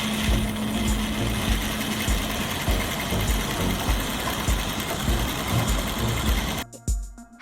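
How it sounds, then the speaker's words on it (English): A robotic sewing machine rotates while stitching fabric into the front panel of a cap, producing a loud, steady mechanical whirr with rapid rhythmic needle clatter that cuts off abruptly near the end. "This robotic sewing machine is rotating and stitching fabric to shape the front part of a cap with high precision."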